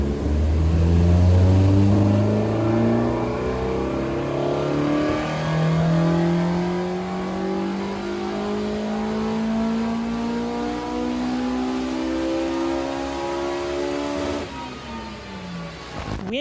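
A Honda Civic Type R engine swapped into a Peugeot 206 GTI revs hard on a dyno, its pitch climbing steadily through the gears into a high-revving scream before dropping off near the end, loud and close.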